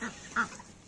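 A goose on a rooftop lets out a couple of short nasal honks, one early and a louder one in the middle, fairly close against a quiet background.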